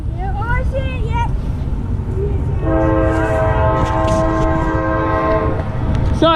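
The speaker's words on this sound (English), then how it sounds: "Here comes the train." A long CSX intermodal freight train approaches on a very cold day in North East, Pennsylvania, sounding a loud multi-tone horn blast for several seconds over a constant rumble of wind and rail noise, with people talking before the horn.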